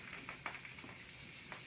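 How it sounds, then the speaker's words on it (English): Pork sausage sizzling in coconut oil in a pan, a steady faint hiss of frying with a few brief crackles and pops, no talking. "nice sizzling sausage."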